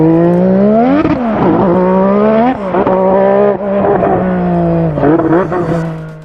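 McLaren Honda MP4-4 Formula 1 car with a turbocharged 1.5-litre V6 races past loud and close, its engine note climbing through repeated upshifts with brief dips between gears, no talk.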